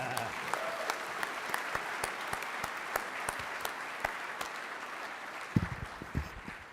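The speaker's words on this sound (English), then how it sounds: "And yes, you can applaud now" Audience applause at a youth sports summit, a broad wash of clapping with distinct individual claps standing out, steady throughout and slightly livelier near the end.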